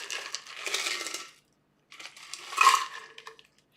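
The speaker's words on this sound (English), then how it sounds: "Pour it into our glass with some ice." A freshly shaken whiskey sour is poured over ice in a glass, giving two bursts of splashing liquid and clinking, rattling ice separated by a short silent gap.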